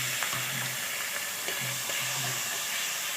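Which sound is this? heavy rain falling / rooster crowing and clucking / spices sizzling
spices sizzling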